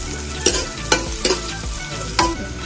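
Steady frying sizzle from onions in a pan, with a few sharp stirring scrapes and clanks breaking through at intervals.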